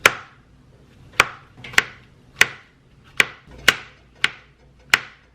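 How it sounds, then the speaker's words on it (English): A knife slices through an onion on a cutting board, giving eight sharp, distinct chops spaced roughly half a second to a second apart, close and clear with quiet gaps between strokes. "first I'm going to slice up this onion"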